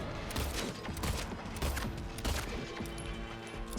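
Rapid gunshots fired at a boss in Silent Hill 2, a dense close volley of shots over several seconds.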